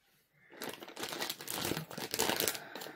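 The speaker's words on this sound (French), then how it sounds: "Je vais vous le déballer aussi." Plastic packaging of a cross-stitch kit crinkles and tears as it is unwrapped up close, a dense continuous crackling that starts after a short quiet moment and keeps going to the end.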